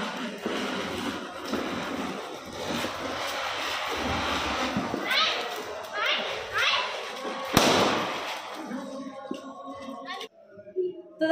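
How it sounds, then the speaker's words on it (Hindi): Firecrackers burst repeatedly during a Diwali night celebration, with sharp pops and crackling spread through the clip amid steady background noise and children's voices, ending with a quieter stretch. "पटाखे भी हमने फोड़ दिए हैं"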